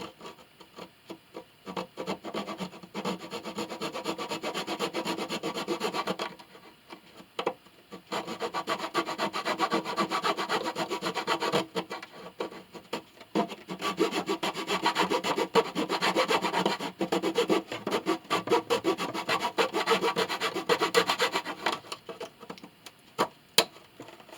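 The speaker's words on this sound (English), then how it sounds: "we're going to have to trim those linings a little bit" Wooden cello linings being trimmed during a restoration, with long bursts of close, rhythmic scraping and rasping broken by short pauses; no talk.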